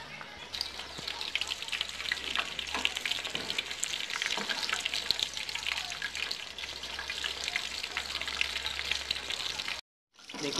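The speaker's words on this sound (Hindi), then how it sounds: "इस तरह ही सारी टिक्कियां बना लेनी है और इनको फ्राई कर लेना है" Chapli kabab patties fry in oil in a village-style kitchen, giving a steady, dense sizzle that runs nearly unbroken for about ten seconds with scattered pops and spatters, then cuts off briefly near the end.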